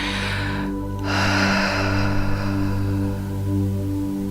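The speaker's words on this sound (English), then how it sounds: "Just slow your breathing." A slow, deep breath drawn and released during a guided meditation, soft and airy against a steady low hum, with no talking.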